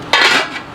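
Lid set onto a metal hotel pan holding smoked Cajun-style meatloaf, a single bright clatter of metal on metal followed by a short ringing decay, close and alone.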